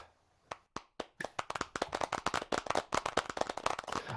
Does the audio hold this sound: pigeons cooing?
no